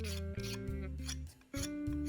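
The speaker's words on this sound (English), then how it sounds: "I did just want to quickly file it down, getting rid of all sharp edges" A hand file rasps over the metal parts of a hand-forged karambit knife, smoothing sharp edges in several distinct back-and-forth strokes, close and fairly loud, with a short pause before the last strokes.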